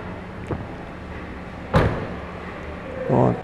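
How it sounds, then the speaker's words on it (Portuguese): A sharp thud of a Mercedes-Benz GLA 200 trunk lid slamming shut, preceded by a faint tap and followed by a softer rustle. "e fechar o porta-mala."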